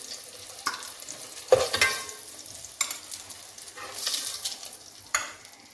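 Boiled eggs frying in oil for egg dum biryani, a soft steady sizzle broken by several scraping, clattering stir strokes at irregular intervals, close up with no talking.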